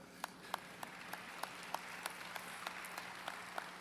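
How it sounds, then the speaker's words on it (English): A commencement audience applauds with steady, fairly faint clapping from a distance, broken by a few sharper individual claps that stand out at a regular pace. "you can clap for that."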